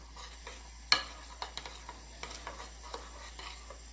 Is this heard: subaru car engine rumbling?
no